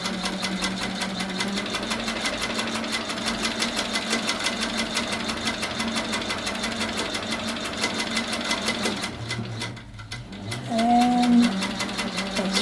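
A sewing machine stitches steadily during free-motion quilting, its fast, even whir running close and continuous, dipping briefly near the end before resuming.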